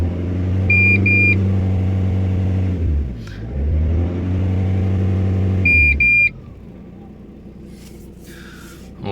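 Renault Scenic with a 1.9 diesel engine, idling close by, then revved twice in long rising and falling pushes with a high electronic whine. It drops back to a quieter idle at the end.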